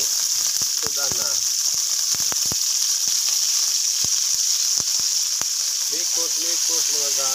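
Beef browning in a hot pan gives a steady, loud sizzling hiss, with scattered sharp crackles and pops throughout and brief faint voices in the background.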